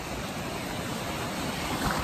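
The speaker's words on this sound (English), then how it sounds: "Wave's coming." Surf churning steadily around a dog wading chest deep at a beach, with a wave rolling in and building slightly louder near the end.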